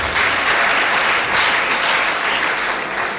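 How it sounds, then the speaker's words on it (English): Steady, dense applause from an audience at a university physiotherapy induction ceremony honoring the Dean, loud and continuous with no break across the whole stretch. "A better round of applause for the Dean."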